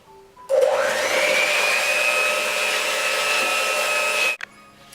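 Electric mixer whipping egg yolks with cocoa and sugar for a chocolate roll, switching on with a rising whine into a steady loud whir for about four seconds, then cutting off abruptly.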